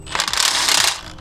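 An impact wrench driven through a 90-degree adapter during a Borla exhaust install on a G70 fires a single rapid, loud rattling burst of about a second, up close.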